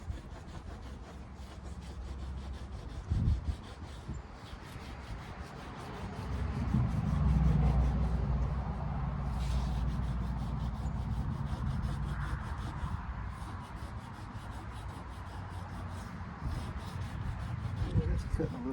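Hand sanding car paint with 600 grit sandpaper gives a continuous close scratchy rubbing that swells and steadies over the stretch, with a brief knock early on and a low rumble beneath.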